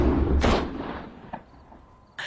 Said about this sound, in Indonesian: lalu dia menembaki mereka semua